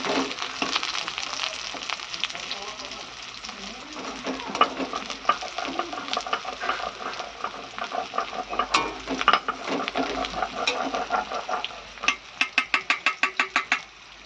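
Chopped onions fry in a pan while being stirred steadily, a close scraping and sizzling texture that ends in a quick run of rhythmic spatula scrapes, with no talking.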